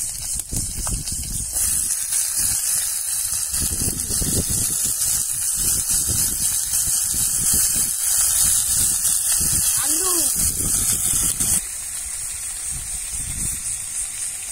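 Drumsticks (sajne data) with split green chillies are added to hot mustard oil and give off a loud, continuous hiss and sizzle at close range, with some handling clatter.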